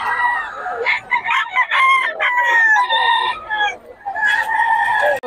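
Chickens at a roadside market in Bocaue, with roosters crowing loudly and repeatedly close by, overlapping calls and clucks filling the stretch with only brief pauses.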